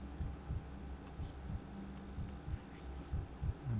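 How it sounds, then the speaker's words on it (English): Soft, steady heartbeat thumps heard during a medical examination in Pathologic 3, repeating in a regular rhythm over a low hum, faint and close with no talking. "His heartbeat seems normal."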